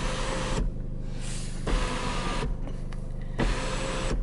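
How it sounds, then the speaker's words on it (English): A car's sliding sunroof motor whirs in steady electric drones, stopping and starting in several separate runs, close and fairly loud inside the cabin with no talking. "this button here is for your sunroof. So this is kind of a sunroof that slides back and forth"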